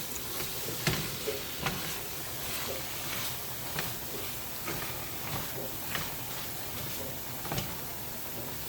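Pre-cooked saltfish is stirred into blended vegetables in a pan for a Jamaican cook-up. A constant sizzle runs throughout, with soft scraping strokes at a steady rhythm of roughly one per second.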